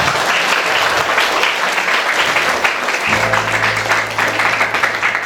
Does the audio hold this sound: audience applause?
yes